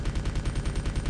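An SMG fires in Resident Evil 2 as a rapid, even burst of about a dozen close gunshots, loud and unbroken, with no talk over it.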